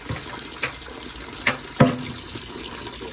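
Water drains from a home boiler being lowered after a heat exchanger test, a soft trickling wash punctuated by a couple of brief splashy gurgles, fairly close.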